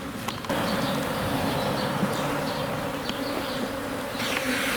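Honeybees swarm and buzz continuously in a bee yard, a dense, loud drone filling the air from start to finish.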